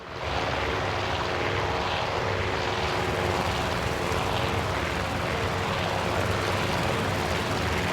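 WWII aircraft engines during a Japanese air strike in a naval battle video game, a loud continuous propeller drone with layered engines and wavering intensity, sustained for several seconds.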